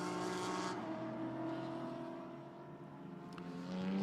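GT4 race cars streaming out of the pit lane during qualifying at Misano, a steady layered engine drone with tonal whine held at moderate distance, rising slightly toward the end.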